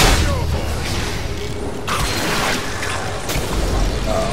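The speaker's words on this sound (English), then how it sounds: "the fireworks show, though." Fireworks explosions in a video game play as a dense, continuous barrage of booms, crackles and bursts, loud and busy throughout.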